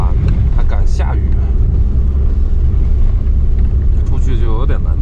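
A motorhome rolls along a potholed national road through mountains in heavy rain, a loud continuous engine and road rumble filling the cabin while people talk over it.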